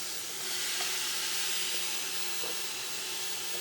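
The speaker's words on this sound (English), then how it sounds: "Hear the sizzle." Goat meat sizzling in a hot pot, a dense steady hiss of frying that stays even and close throughout with no voices.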